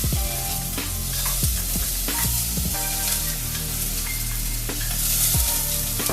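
Chopped onion sizzles in olive oil in a pan, a loud, dense, continuous frying hiss close up, broken by sharp clicks and scrapes of stirring, with no talking.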